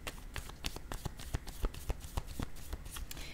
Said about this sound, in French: je vais piger une autre carte de mon jeu haut.